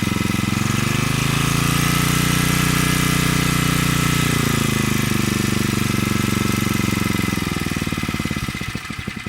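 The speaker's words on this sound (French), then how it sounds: "ça c'est un moteur Honda qui a 30 ans." Thirty-year-old Honda G100 small engine running with a steady loud rough drone and throbbing exhaust pulses, slowing slightly near the end, with a short spoken remark over it.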